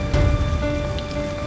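Steady rain pattering densely on a surface during a storm, loud and close with a constant hiss and no voices.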